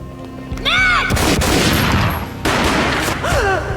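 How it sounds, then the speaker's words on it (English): Gunfire in the 2001 video game Max Payne: a loud burst of shots followed by a second volley, with echoing booms and a brief cry-like voice between them, no talk. "A gunshot boomed"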